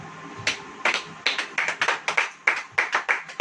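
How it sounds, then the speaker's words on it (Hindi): A small church congregation claps in uneven bursts, sharp slaps arriving in loose clusters, fairly close and moderately loud, with no voices. "ताली बजाओ।"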